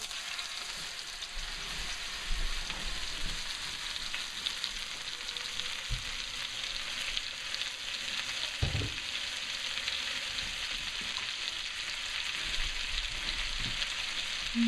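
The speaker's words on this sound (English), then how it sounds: "Then I'll have it in the pan searing like that for about 2 minutes." A lingcod fillet searing in butter in a hot pan gives a steady, close sizzle and crackle with a few soft bumps of movement, continuous throughout and with no voices.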